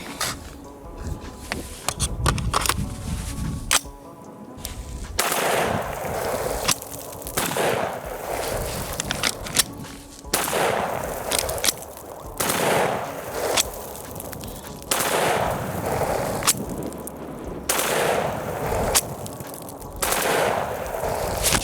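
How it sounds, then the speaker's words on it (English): A rifle fitted with an FRT-15 forced reset trigger fires off a full magazine, loud close gunshots in rapid repeating bursts broken by short pauses, with echo trailing each string. "I'm just going to dump some ammo, see what happens. And that's a mag."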